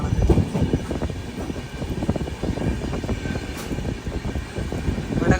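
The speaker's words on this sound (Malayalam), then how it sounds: "വടകര റെയിൽവേ സ്റ്റേഷനിലേക്ക് ഇതാ നമ്മുടെ ട്രെയിൻ എത്തിക്കൊണ്ടിരിക്കുകയാണ്." An express train on the Mangaluru–Kacheguda run pulls into Vadakara station in the rain, a steady broadband rumble with wind and rain noise blending around it, continuous and fairly close.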